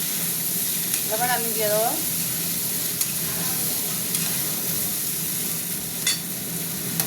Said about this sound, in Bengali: আবার ঢাকাটা খুললাম, ভাজা হয়ে গেছে অনেকটাই, তলায় লেগে যাচ্ছে।